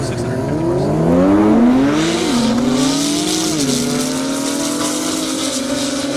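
A 1,000-horsepower Porsche Turbo S and a 650-horsepower GTR Nismo race down a half-mile airstrip. Loud engines rev and climb through gear after gear, with a brief tire squeal, close and sustained throughout.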